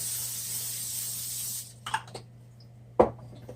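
A sustained aerosol hiss from a can of cooking spray onto a frying pan for about a second and a half, then stops, followed by a few soft clicks and a sharp knock.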